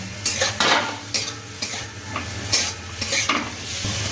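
Potatoes tumble into a frying mushroom curry, setting off a steady sizzle broken by repeated scraping strokes of a spoon against the pan, close and fairly loud with no talking.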